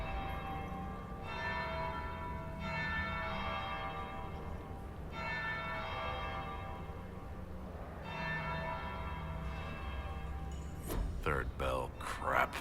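A church bell tolls in the video game Dragon Age Inquisition, several slow, evenly spaced strikes with long ringing decay, heard over a quiet murmur of background voices before speech begins near the end.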